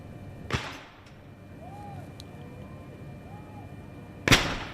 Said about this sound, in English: a further 21 gun royal salute, making 62, fired here by the Honourable Artillery Company.